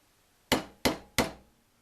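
A small punch strikes a pin on a CZ75 pistol slide three times in quick, evenly spaced succession, each a crisp, close metallic tap with a short ring in a quiet room.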